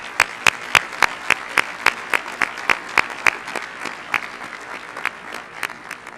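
A graduation audience at the American University of Kuwait applauds, with dense, lively clapping and sharp individual claps near the front that gradually thin out toward the end.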